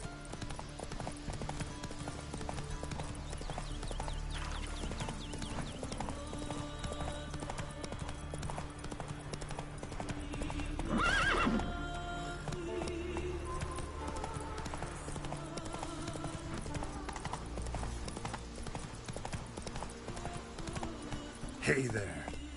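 Roach the horse trots in The Witcher 3: Wild Hunt on PS5, with steady, brisk hoofbeats throughout over layered game music and ambience. A short whinny-like burst rises midway.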